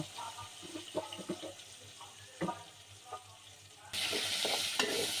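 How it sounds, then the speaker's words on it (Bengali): A tempering of onion and garlic for masoor lentil dal being made in a pot, starting with scattered stirring knocks and light crackles, then bursting into a loud, steady sizzle close by. "সেই পাতিলেই ডালের বাগারটা দিয়ে দেব"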